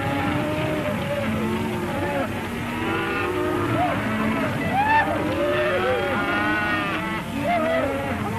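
Cattle on a western cattle drive moo repeatedly, with several overlapping bellowing calls at close to middle distance over a steady outdoor background.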